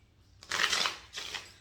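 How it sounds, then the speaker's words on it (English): A deck of playing cards being shuffled in two quick riffling bursts, close and fairly loud against a quiet background. "he ran off because I shuffled the cards"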